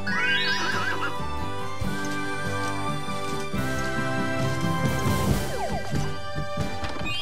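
A horse whinnies loudly in Mario Sports Superstars on Nintendo 3DS, rising and falling over continuous music with layered instruments, followed later by another shrill neigh.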